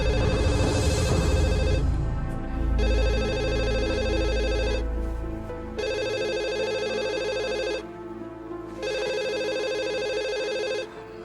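A home telephone rings late at night in repeated electronic bursts, four clear rings separated by short pauses, loud and close with a low background hum.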